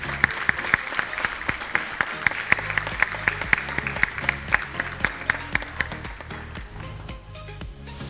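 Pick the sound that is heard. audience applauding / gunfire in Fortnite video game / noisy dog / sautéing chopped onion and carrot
audience applauding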